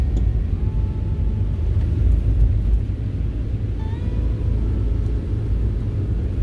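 Interior of a car driving on an expressway on a snowy winter night in Tottori, a steady loud low engine and road rumble with a few faint tonal chirps, no talk.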